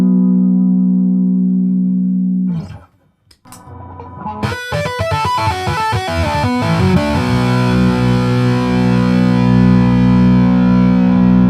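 A stick guitar played through an amp with heavy distortion: a sustained gritty chord, a short break, then a run of crunchy, buzzing notes ringing out loud.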